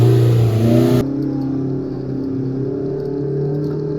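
A Pro R side-by-side climbing a steep off-road trail with some wheel spin, heard as a loud, close engine drone with shifting pitch that drops in level after the first second, with no talking.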